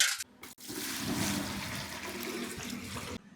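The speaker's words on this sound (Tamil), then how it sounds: "ஒரு சுத்தமான தண்ணி எடுத்து ஒரு பக்கெட்டில் ஊற்றிக்குங்க." Clean water pours steadily into a bucket, a continuous splashing gush that runs for a few seconds at moderate level, close by, with no talking.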